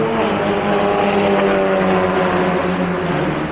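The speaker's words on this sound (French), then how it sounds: "j'entends des voitures faire vroom vroom" Loud engine roar from racing cars at the 24 Hours of Le Mans circuit fills the whole stretch, a continuous high-revving drone with no voices over it.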